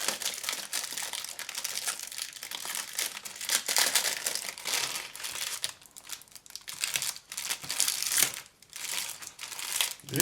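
Plastic bags holding model kit sprues for a Gecko Models 1/35 Cruiser tank A10 Mk 1A CS crinkle and crackle continuously and fairly close, with uneven bursts of rustling and no talking.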